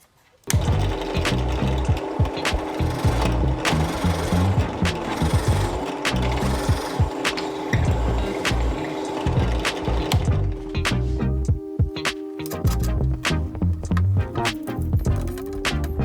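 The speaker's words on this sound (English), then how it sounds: "Just have to trim these bushings down." A power tool whirs loudly and continuously while trimming wooden bushings for a wooden sailboat's tiller, a dense buzzing grind with rapid repetitive chatter that shifts slightly in tone partway through.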